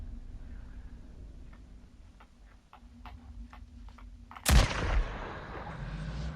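A single sharp, loud sniper rifle shot in the video game Days Gone, with a booming tail, preceded by a few faint ticks over quiet ambience.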